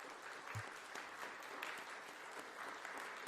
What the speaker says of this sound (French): Donc applaudissez-vous, n'hésitez pas.